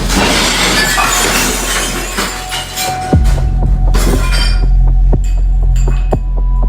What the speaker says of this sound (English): the entire set of kitchen cabinets appears to have collapsed